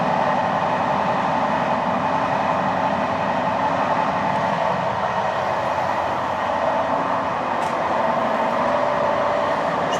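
Steady low rumble and hum inside a moving train carriage, at the rear, constant rolling noise with a couple of faint clicks, no talking.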